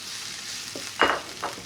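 Chopped onion frying in a pan as the base for a minced-meat filling, giving a steady soft sizzle broken by a few brief stirring scrapes.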